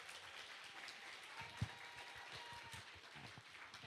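Audience applause after a theatre premiere performance, a steady wash of clapping from a crowd with one sharper nearby clap, continuous throughout and without talk.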